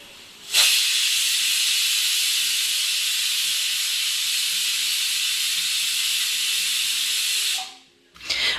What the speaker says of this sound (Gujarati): કુકરનું ઢાંકણ ઢાંકી સીટી લગાવી અને ગેસની મીડિયમ ફ્લેમ પર પાંચ સીટી કરવાની છે